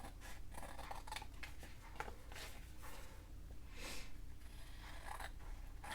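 Scissors snipping through paper while trimming the edges and bottom of a Victorian Christmas junk journal page, a steady run of close, soft crisp cuts and rustles with no talking.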